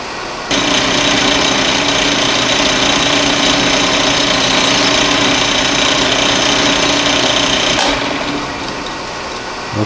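Steady, loud grinding of a drill running a reamer into a hole in metal continuously for several seconds, then cutting off abruptly near the end, leaving a faint hum.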